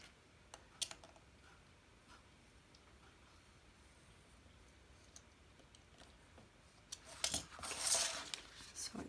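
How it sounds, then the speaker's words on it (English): A blade scrapes and snips leather fuzz from a skived edge, faint soft ticks and light clicks on a quiet bench, then a brief louder rustle of trimming near the end. "I'm going to cut that off using my blade."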